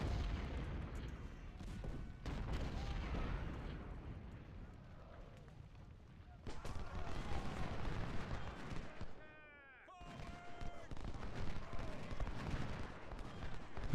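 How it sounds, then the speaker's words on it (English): Musket volleys rumble from a Civil War battlefield in Ultimate General: Civil War. The firing rolls on as a steady, distant crackle and boom, with game noise and some talk over it. "He's taking he's taking Philip Phelps' volleys, but he can't shoot back."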